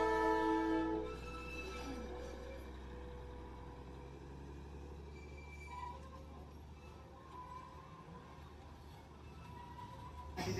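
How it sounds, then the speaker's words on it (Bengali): A Darjeeling toy train on the mountain road sounds its horn in the distance, sustained tonal blasts strongest at the start, followed by a faint, steady engine and traffic rumble. "দূর থেকে না একটা হালকা ট্রেনের আওয়াজ আসছে"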